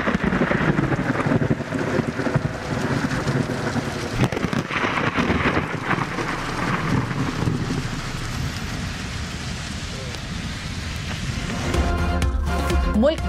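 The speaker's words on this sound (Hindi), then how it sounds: "रावलपिंडी, इस्लामाबाद में गरज चमक के साथ तूफानी बारिश।" Heavy monsoon rain and a thunderstorm over Rawalpindi and Islamabad, a dense, steady hiss of rain with low rumbling underneath and a stronger rumble near the end, playing continuously throughout.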